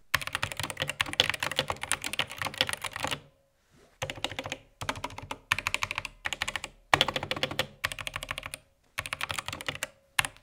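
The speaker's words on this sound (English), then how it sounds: "Here's a quick sound test of what the Gatoron reds sound like on the SK64." Close, rapid typing on a budget SK64 mechanical keyboard with Gateron red switches in several bursts separated by short pauses, crisp clacky keystrokes with no talking.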